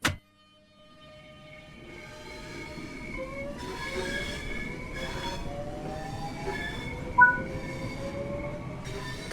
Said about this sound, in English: pull the lever towards you to release the brakes and get moving